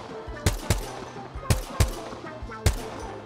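Gunfire in a shooter video game, rendered as sharp, loud single shots at irregular intervals, about six or seven bursts over a few seconds, with a faint low game hum underneath between the shots.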